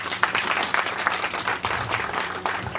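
Crowd at a Hindu jagran devotional gathering clapping loudly and steadily, a dense burst of applause with individual claps audible.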